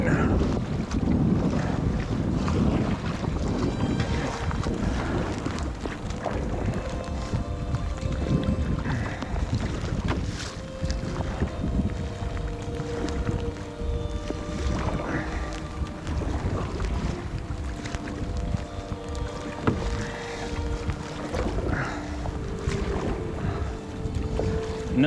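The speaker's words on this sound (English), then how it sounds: "White caps, big waves. It's a headwind, so I'm paddling as hard as I possibly can." Strong headwind and whitecap waves roar continuously around a canoe paddled hard on an Algonquin lake, with gusting wind buffeting the microphone, water sloshing against the hull, and paddle strokes mixed in throughout.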